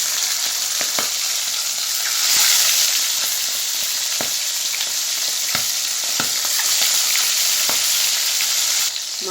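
Fish frying in hot oil in a wok, salt sprinkled along the sides, a loud continuous sizzle with sharp crackling pops spread throughout and no voices.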